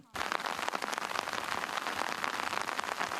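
A heavy downpour lashes the ground along Ukraine's state border, a dense, loud, continuous hiss of rain starting almost at once and holding steady throughout.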